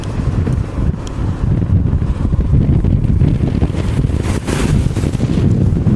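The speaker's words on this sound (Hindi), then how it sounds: "और तेज हवाएं चल रही है" Strong wind blows hard across the microphone in an open outdoor area of a Rajasthan town, a loud, steady roaring rush with gusting surges and no voices.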